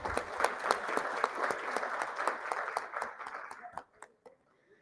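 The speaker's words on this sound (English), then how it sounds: "Please give everyone a round of applause." Conference audience in New Delhi gives a round of applause, dense steady clapping that thins and fades out over the last second.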